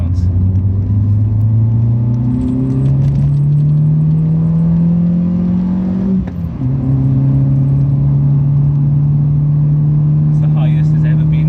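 A Citroen C2 VTS 16v pulls hard in second gear, its engine note climbing steadily in pitch, dipping briefly at a shift or lift near the midpoint, then holding a loud steady drone from inside the cabin.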